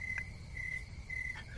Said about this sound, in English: Or the crickets that we were waiting for from my answer.